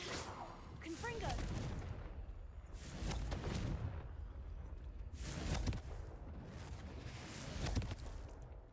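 A Confringo fire spell from Hogwarts Legacy blasts with repeated loud booming bursts, each surging then fading, layered over a continuous rumbling game mix in a spider-filled area.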